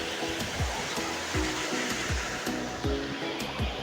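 Strong wind buffeting a microphone beside the flowing Shivnath river at Gudaghat, with repeated low gusty thumps over a continuous rushing noise, no speech.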